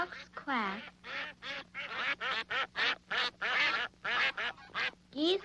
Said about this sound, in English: Ducks quack.